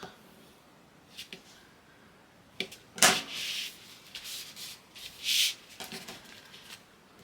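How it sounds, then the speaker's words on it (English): A bone folder burnishes folded paper from the middle outward for a 12x12 layout book, giving several short, dry rubbing strokes in irregular bursts, close and fairly quiet with pauses between. "I'm going to fold it over and burnish again from the middle out"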